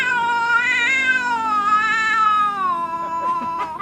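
A voice imitates a cat, giving one long, drawn-out, wavering meow that is close and loud, with a few faint breathy sounds at the end.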